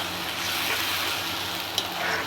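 Blended paste with garlic poured from a mixer jar into a hot pan gives a steady, loud hiss of sizzling that lasts the whole moment with no talk.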